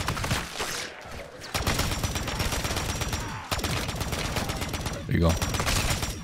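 An AI teammate in Modern Warfare 3 Zombies fires in dense automatic bursts from nearby, with brief gaps between volleys and a voice speaking over the shooting.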